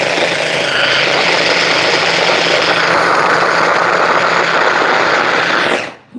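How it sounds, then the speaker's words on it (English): A loud, steady whirring roar of a food processor crushing onions for several seconds, then cutting off abruptly. "I'm gonna use this food processor to crush my onions"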